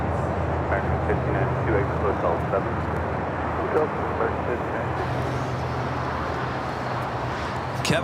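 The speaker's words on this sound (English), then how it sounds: "American Airlines Flight 1719 at an old America West A319." An American Airlines Airbus A319, an older ex-America West jet, at Los Angeles International Airport gives a steady, broad roar that holds throughout under the wider hum of airport and road traffic.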